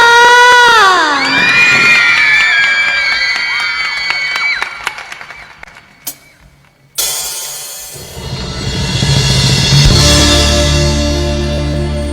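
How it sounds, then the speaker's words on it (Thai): A crowd of schoolchildren shouts and cheers shrilly for a luk thung school band from Municipal School 6 in Udon Thani. The loud voices fade briefly before band music swells in near the end. "ขอเสียงปรบมือเพื่อเป็นกำลังใจให้กับพวกเราด้วยค่ะ"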